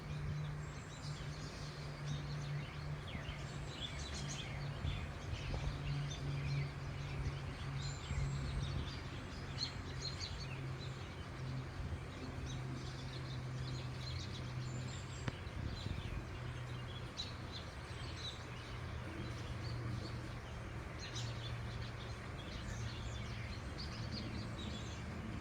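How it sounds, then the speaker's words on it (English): Birds chirping in a backyard, faint scattered calls over a steady low background hum, fairly distant and quiet the whole time. "Quite a few birds flying around in my backyard."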